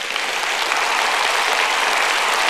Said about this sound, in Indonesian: Dari awal khotbah tepuk tangannya semua setengah tiang.